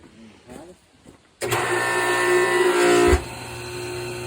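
A pressure washer pump starts abruptly and runs with a loud, steady mechanical whine and drone while cleaning a John Deere machine, then cuts back sharply to a lower idle. Brief speech comes before it starts.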